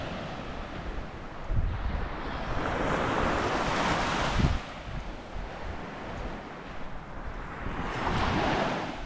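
Ocean surf washes steadily onto a clean beach at Yurihama in Tottori, Japan, a broad continuous roar with swelling and receding surges, mixed with wind buffeting the microphone and no voices.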